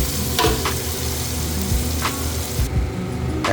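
Tomatoes frying with curry masala in a pan make a steady, close sizzle, with a few brief scraping stir strokes running through it.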